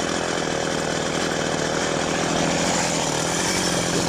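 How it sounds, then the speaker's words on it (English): A chainsaw runs steadily and loudly at close range before a tree is felled, holding a continuous buzzing engine drone throughout with no speech. "Put the chainsaw there"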